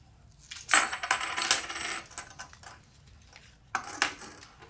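Morgan silver dollars spill from a freshly opened 1954 coin roll, two bright bursts of metallic clinking and jingling as they tumble out, close and clear.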